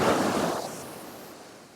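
Cold ocean surf in Southern California, a single wave crashing close and loud, then its wash fading out into quiet.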